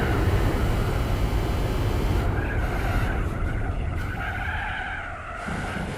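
A car skids and loses grip in Gran Turismo 4, a loud, continuous tire squeal over the engine that holds for several seconds and slowly fades, with no one talking.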